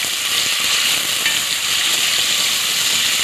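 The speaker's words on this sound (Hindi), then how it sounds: "प्याज को बस फ्राई कर लेते हैं, लाइट ब्राउन होगी" Onions frying in oil in a handi, a steady close sizzle and hiss that holds without a break, with no voices over it.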